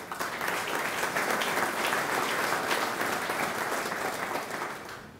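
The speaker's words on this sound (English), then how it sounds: "Again, a round of applause." An audience at the 2011 KOSBE business awards ceremony breaks into sustained, loud applause, a dense wash of clapping that holds steady before tapering slightly at the end.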